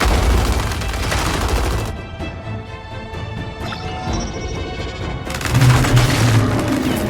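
Gunfire and explosions burst in the Gears of War 5 video game, a loud crashing barrage at the start and again near the end, with a quieter stretch of rumbling between them.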